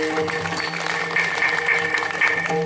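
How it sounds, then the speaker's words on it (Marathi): Audience clapping steadily at a kirtan in Pimpri, a dense, moderately loud wash of applause lasting a few seconds with no voices over it. "टाळ्या वाजवा."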